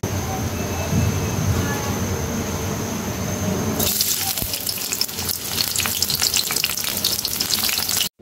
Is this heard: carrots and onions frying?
yes